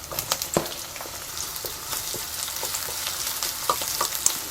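Onion dropped into hot oil in which spring onion was being fried, giving a dense, even sizzle with a few sharp clicks and stirring knocks, near and steady, with no talking.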